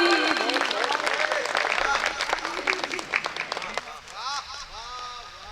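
An audience at a Hindi kavi sammelan poetry recital claps steadily, loud and dense for a few seconds, then thins out as a voice begins speaking over it.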